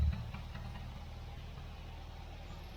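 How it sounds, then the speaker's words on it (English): A 1967 MGB Mk1 engine idling after carburettor tuning, a low, even rumble with a steady pulse that stays smooth and moderately quiet throughout, with no talk. "There's no shaking, it's a nice idle."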